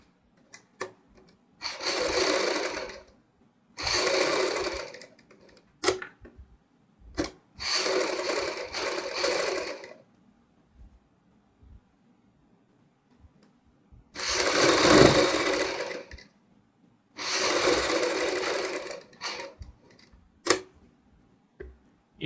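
A sewing machine stitching the neck of a kurti, running in five or six short bursts of rapid mechanical clatter separated by quiet pauses.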